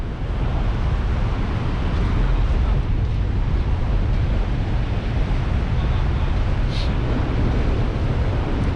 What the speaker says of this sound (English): Can't hear Keith because of this wind.